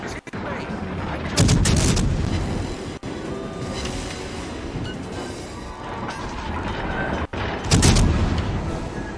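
Torpedoes launch in a video game with repeated heavy booming bursts, two loud swells a few seconds apart over a rumbling engine-like background, broken by sharp clicks and a voice speaking.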